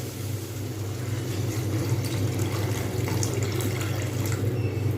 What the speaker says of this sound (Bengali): এইবারে আমি এর মধ্যে দিয়ে দেবো পরিমাণ মতো জল